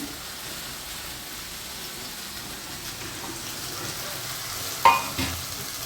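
Rice with raw mango stir-fried in a pan, giving a steady soft sizzle with a couple of brief scraping clinks near the end, no talking.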